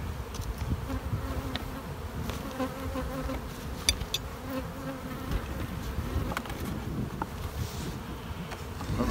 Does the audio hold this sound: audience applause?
no